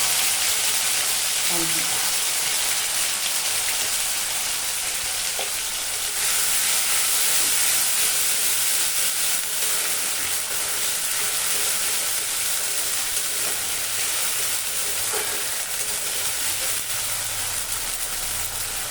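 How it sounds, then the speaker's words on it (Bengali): A ground paste of chili, ginger, cumin, garlic and onion frying in oil, giving a loud, steady, close hiss and sizzle that persists throughout with faint stirring. "এবার লাল করে ভাজবো, যতক্ষণ এর গন্ধ না গেছে ততক্ষণ আমি অপেক্ষা করব"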